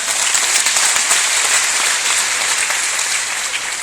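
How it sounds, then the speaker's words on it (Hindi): A large seminar audience applauds first-time attendees with loud, sustained, evenly spread clapping that fills the hall without pause. "तो इन नए लोगों के लिए भी एक बार जोरदार तालियां हो जाए"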